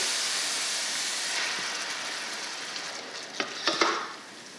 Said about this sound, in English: So what I will do right now is just to cover this up and let it fry.